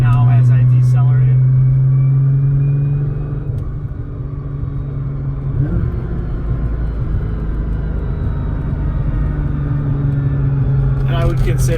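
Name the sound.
gear whine of 1000HP Nissan GTR decelerating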